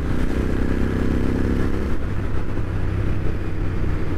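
A Royal Enfield Interceptor 650 exhaust rises in pitch as the bike accelerates, then drops back to a rough, burbling rumble close by.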